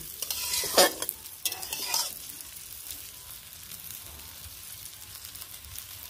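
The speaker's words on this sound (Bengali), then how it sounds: "এখন চালটা ভাজা ভাজা করে নেব।" Rice frying in a pan gives a steady, fairly soft sizzle, with a few scraping stirs near the start.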